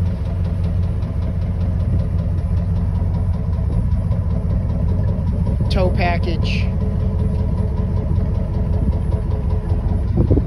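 A 1998 Chevrolet C/K 1500 pickup with dual exhaust idles steadily and loudly up close, a constant low rumble throughout, with someone briefly speaking over it.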